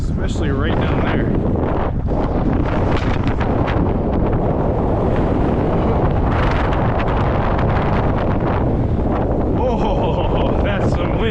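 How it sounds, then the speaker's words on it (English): Strong outdoor wind buffets the microphone in a steady, loud roar throughout, during a winter ice and fly fishing outing, with gusts swelling and easing but never dropping away. "Oh, that's some wind."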